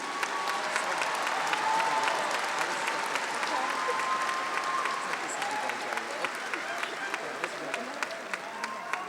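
A large commencement audience applauds graduates at an LSU summer graduation ceremony, steady dense clapping filling a big hall for several seconds and holding even throughout.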